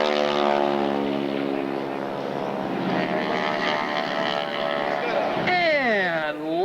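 A propeller plane flies past at an air show, one of a flight of six, its engine drone rising and falling with a clear pitch sweep near the end as it passes, under a commentator's voice.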